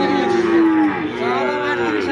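A Sindhi cow lets out a long, loud moo close by at a cattle market, its low drawn-out call shifting in pitch before a second lowing follows.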